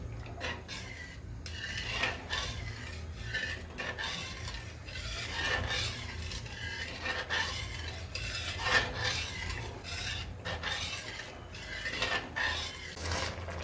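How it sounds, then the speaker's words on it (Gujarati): Milk for a jaggery-sweetened carrot halwa being stirred constantly over a full gas flame, with faint repeated scraping strokes of a spoon against the pan over a low bubbling hum. "દૂધને આપણે સતત હલાવતા રહીશું."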